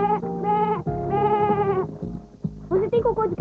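A pet goat crosses a finish line at a race event in France, giving several loud, wavering bleats in close succession, with harmonic cries rising and falling over about three seconds.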